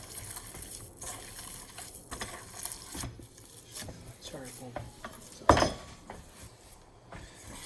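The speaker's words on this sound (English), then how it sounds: "We give it a nice mix." Ground meat for burgers is worked by hand or with a utensil in a bowl, giving soft squelching, rubbing and light scraping noises at close range, uneven in rhythm, with one sharper clatter partway through.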